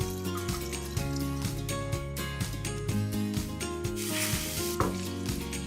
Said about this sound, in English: you saute it on low heat for 5 minutes to release the aroma flavors of lemongrass and ginger